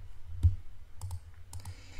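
A computer mouse clicking an on-screen Apply button: one sharp, close click followed by a few lighter, softer clicks in a quiet room.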